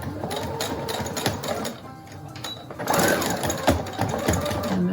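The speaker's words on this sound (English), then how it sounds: "I'm gonna go ahead, sew it all the way down. Reverse my stitch a few times over the elastic." A sewing machine stitches elastic into a fabric mask, running in steady bursts with a short slowdown in the middle, close and loud, with no talking.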